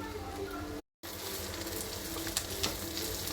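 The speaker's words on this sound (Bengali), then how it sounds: "এটা একটু ভালো করে ভেজে নিব।" Chopped onions, ginger and dried red chillies sizzling in hot oil for a spice tempering, a steady close frying hiss with a brief drop-out and a few stirring clicks.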